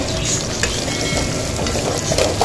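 Small onions frying in oil in a pan for a spinach and dhal kootu, a steady close sizzle with light stirring throughout.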